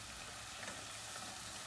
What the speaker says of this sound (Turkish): Şimdi suyunu çekene kadar biraz soğanlarla beraber pişireceğim.